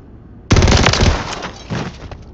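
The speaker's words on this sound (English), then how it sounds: "I was shooting somebody!" A sudden loud burst of rapid automatic gunfire in Modern Warfare 3 erupts close by, then keeps rattling more loosely for the rest of the moment with no talking over it.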